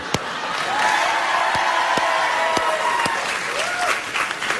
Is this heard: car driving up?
no